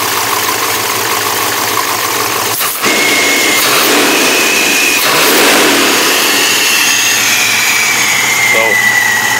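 A 390 stroker V8 in a 1995 Dodge Dakota club cab idles and then revs up several times, loud and close, with a faint whistle from the idle air control over the engine rumble.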